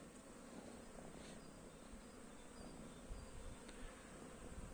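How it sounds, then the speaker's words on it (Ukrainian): Faint, steady buzzing of bees flying around, a soft continuous hum with no voices. "Так, а бджоли літають."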